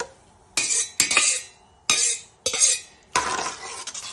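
Goat blood being stirred in a pan for a Tamil blood fry, heard as several distinct bursts of spoon scraping against the pan with clinking metal, each lasting a fraction of a second, close and fairly loud with quiet gaps between.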